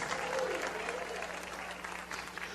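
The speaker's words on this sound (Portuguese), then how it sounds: "ofereça a Deus aplausos, com glória, com aleluia" A church congregation claps steadily at a moderate distance, with a faint hum beneath and some voices mixed into the applause.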